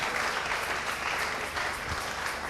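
Congregation applauding during a Sunday church service: dense, steady clapping from many people, loud and continuous throughout.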